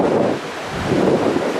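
Waterfall spray and wind in Jasper National Park make a steady, loud roar and buffet close to the microphone, with no voices.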